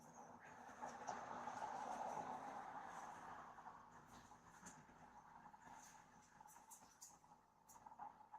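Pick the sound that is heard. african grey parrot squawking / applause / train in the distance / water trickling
train in the distance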